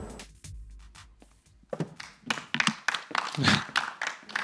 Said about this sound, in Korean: 박수를 처음으로 입장 때 쳐주셨는데요